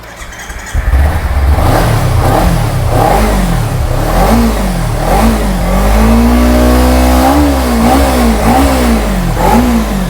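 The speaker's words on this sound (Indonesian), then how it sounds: "langsung saja akan kugaskan untuk cek soundnya ya bang" A Kawasaki Ninja SS motorcycle engine with about 23,000 km starts up close by and is revved repeatedly, the loud two-stroke-like drone rising and falling in rhythmic throttle blips, with one longer sustained rev midway.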